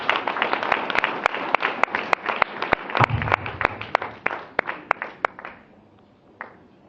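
A church congregation applauds, giving sharp irregular claps that are dense at first and then thin out to scattered claps before fading to near quiet.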